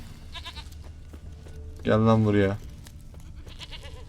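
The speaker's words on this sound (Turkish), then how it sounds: "Ha, keçinin sesini duydum." A goat in The Witcher 3 video game gives one clear, loud bleat midway, while someone talks casually before and after it.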